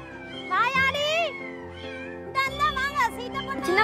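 Several cats meowing in a home in Ennore, with repeated rising and falling calls in two bursts, close and clear, alongside a voice.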